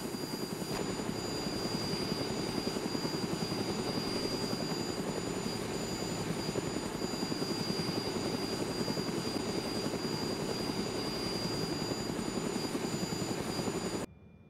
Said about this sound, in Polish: Właśnie znalazłem helikopter, który po prostu sobie stoi odpalony u tradera.